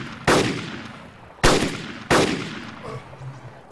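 Three sharp gunshots from a rifle in the survival video game DayZ, each a loud crack with a decaying echo, spaced about a second apart, with no talking.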